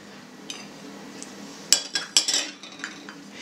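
Bread dough for a homemade sliced loaf is stirred after melted butter goes in, heard as a few sharp clinks and scrapes of a utensil against a bowl, sparse and fairly close, with no talking.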